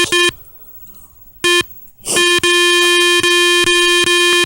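A Garrett metal detector beeps loudly over iron mattress coils, first in two short tones, then a sustained buzzing tone that pulses rapidly and steadily, close and piercing.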